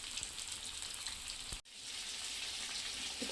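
Halwa fish pieces fry in a pan with a steady, close hiss and crackle that drops out briefly midway and then carries on.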